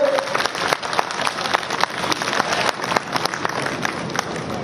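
A crowd at a cobblers' community gathering in Budhni claps loudly in honour of Saint Ravidas during a garland ceremony, sustained vigorous applause with sharp individual claps standing out across the whole stretch.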